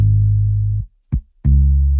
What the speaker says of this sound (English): Those notes, you know, kind of give your guitar play some realistic feel